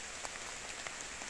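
Rain falling on a rainy day in a forest makes a steady, soft hiss with scattered faint drops tapping on surfaces, heard alone without voices.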